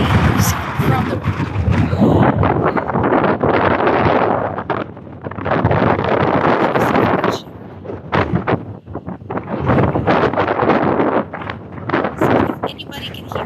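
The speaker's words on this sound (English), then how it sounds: "It's so windy up here." Strong wind on a mountaintop buffets the microphone in loud, roaring gusts that drop out briefly and return, with a person talking underneath.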